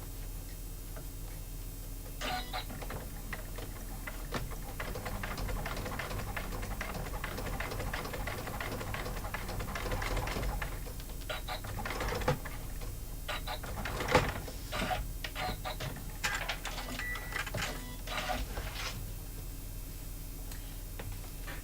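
Sewing machine running a straight stitch on embroidered trivets and tea towels, a continuous fast mechanical ticking and whirring with irregular clicks and bumps, steady and moderately quiet, no talking.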